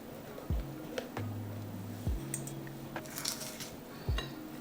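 A utensil stirring baking soda into banana bread batter, with a few soft knocks against the bowl about once a second and faint squishing between them, close and quiet.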